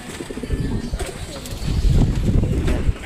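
Pigeons coo in a loft, a steady chorus of low, throaty murmurs close by with faint rustling and a few soft wing sounds, growing a little louder partway through.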